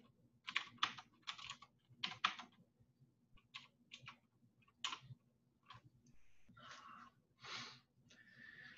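Typing on a computer keyboard at a command line: clusters of quick close clicks and key taps in bursts with short gaps, fairly quiet, no talk over them.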